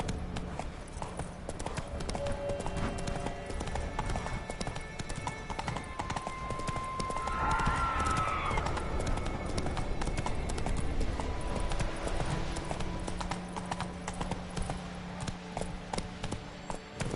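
Roach the horse galloping in The Witcher 3, steady rapid hoofbeats pounding continuously over an ambient game backdrop, with a faint whinny-like tone partway through.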